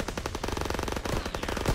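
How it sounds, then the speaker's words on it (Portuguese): Machine guns fire in sustained rapid bursts during a World War II battle in the video game Call of Duty WWII, dense and loud throughout. "Metralhadoras, abri fogo! Mantenham-os longe da ponte."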